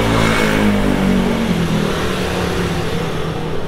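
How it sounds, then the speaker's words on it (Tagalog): Motorcycles pass along a local street in Taiwan, their engines a loud, steady rumble and whine that fills the scene with continuous traffic roar and no talking. "tapos may mga motor dumadaan"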